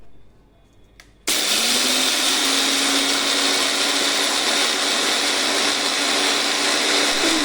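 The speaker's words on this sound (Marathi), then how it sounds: "आपल्याला साखर पूर्णपणे बारीक करून आपल्याला मिक्सरला वाटून घ्यायचं आहे" A kitchen mixer grinder starts up loudly and runs steadily, grinding sugar to a fine powder for homemade maize poha chivda, a constant high whirring motor drone that follows a brief quiet moment.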